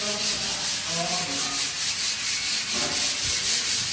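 A wall being sanded by hand on a house build in the Philippines, with a steady, continuous scratchy rubbing that carries on without pause, fairly close and alone without talk.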